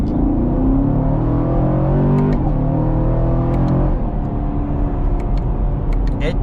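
A 2020 Camaro SS accelerating from about 30 mph in second gear, a rising engine rumble whose pitch climbs, drops at a gear change near the middle, then climbs again, heard from inside the car.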